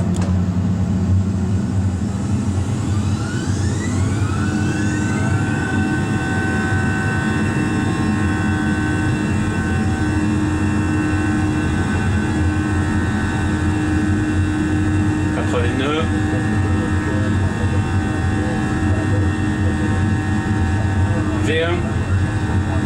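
An Airbus A320neo spools up for a takeoff roll in a flight simulator game: a loud, steady engine roar with rising whine tones and faint runway thumps, sustained throughout.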